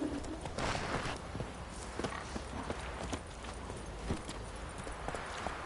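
A horse's hooves clip-clop in The Witcher 3 as it walks on, a steady, moderately close patter of hoofbeats over a dense outdoor ambience.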